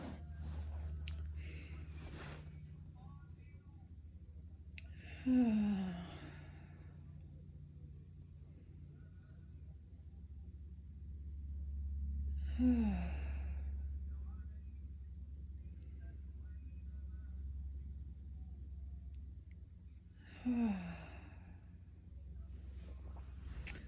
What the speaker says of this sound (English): I want to start by first taking 3 deep breaths